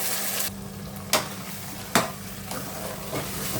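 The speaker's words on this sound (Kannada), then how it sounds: "ಸ್ವಲ್ಪ ಹಸಿ ವಾಸನೆ ಹೋಗೋ ತನಕ ಫ್ರೈ ಮಾಡ್ಕೊಳ್ಳೋಣ ಇದನ್ನು." Radish sambar masala fries and gets stirred in a pan, giving a steady sizzle. Two sharp scrapes of a utensil against the pan stand out, and there are softer stirring sounds, all close with no voices.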